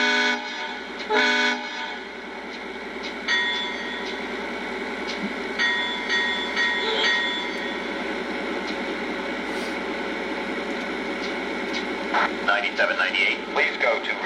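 Norfolk Southern locomotive 9798 idles and rolls on an engine test track, a low diesel drone under radio voices, sustained tonal tones and short clanking bursts near the start and end.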